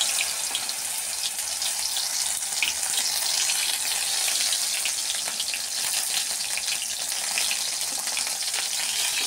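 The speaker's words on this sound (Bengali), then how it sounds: "কড়াইতে তেল দিয়ে দিয়েছি, এবার শাপলাগুলো আমি দিয়ে দেবো" Water lily stems (shapla) hit hot oil in a wok and sizzle loudly, a dense, steady hiss and spatter held close and unbroken throughout.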